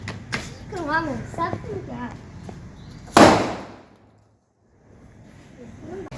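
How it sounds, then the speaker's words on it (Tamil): A sharp snake firecracker pop bursts out after people talk at Diwali, its hiss trailing off into silence before voices resume. "பாம்பு பட்டாஸ்."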